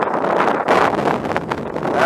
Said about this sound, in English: That wind was just blowing me away.